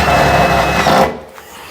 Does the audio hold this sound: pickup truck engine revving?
no